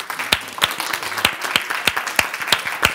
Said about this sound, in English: if you could please give our panel a round of applause